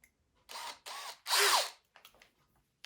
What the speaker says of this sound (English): So I'm going to drill this